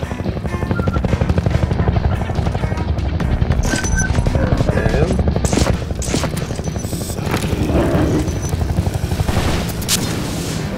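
In the video game Entropy Zero 2, a helicopter's rotor thrum runs steadily under repeated bursts of gunfire and heavy booming thuds, loud and close, with a voice speaking briefly among the shots.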